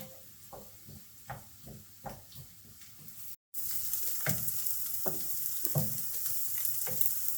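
Onions sizzle and fry in a pan for French onion soup, with soft stirring scrapes; the sizzle is faint at first, then after a brief cut turns into a steady, louder hiss.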